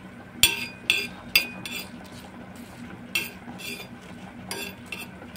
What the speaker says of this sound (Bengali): দুটো শুকনো লঙ্কা, আর একটা তেজপাতা। এইগুলোকে আমি শুকনো খোলা একটু ভেজে নেব।